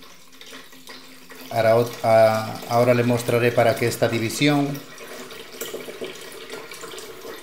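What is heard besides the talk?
water poured into a divided betta fish tank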